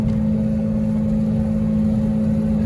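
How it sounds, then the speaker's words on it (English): Inside an Audi 90 Quattro on the road, a loud, steady drone from the straight pipe exhaust fills the cabin alongside a constant rattle from a worn CV axle wheel hub, with no talking. "the car with straight pipe exhaust and the worst CV axle wheel hub rattling I've ever heard"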